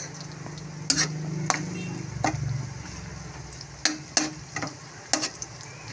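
Carrots stir-fried in a pan for Lucky Me noodles give a soft, low sizzle broken by a few sharp clacks of the utensil against the pan, fairly quiet and close.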